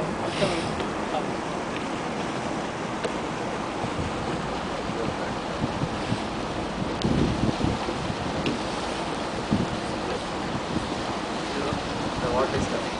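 Storm water discharges into the sea as waves surge and wash continuously, a broad rushing roar with wind buffeting the microphone and a few louder swells.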